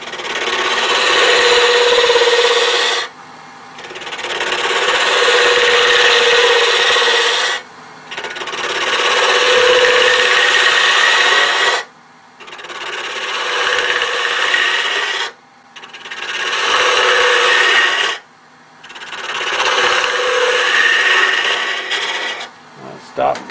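Steady abrasive scraping of a woodturning tool taking light cuts on wood spinning on a lathe, shaping a mushroom box, comes in long passes with brief pauses between, close and loud, with no talking.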